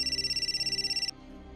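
A phone ringtone trills in a rapid, pulsing electronic warble for about a second before cutting off abruptly, leaving a quiet indoor hum.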